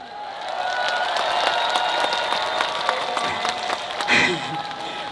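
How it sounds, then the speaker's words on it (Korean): A crowd at the Cheongsong apple festival concert claps and cheers on cue, with dense applause and scattered shouts building steadily and a louder burst of cheering near the end. "준비되신 만큼 박수 함성 한번 가볼까요?"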